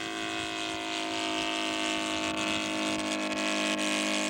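Scale model aircraft engine at full throttle during a flyby, a loud, steady droning whine with sustained tonal hum, holding constant and close throughout.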